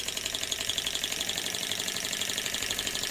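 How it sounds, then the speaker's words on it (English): A large-scale Stirling engine driving a Baker fan runs in the foreground, a fast, even mechanical pulsing with a rhythmic bright whirring overtone and low thumps, steady throughout with no voices. "The Stirling engine picks up speed"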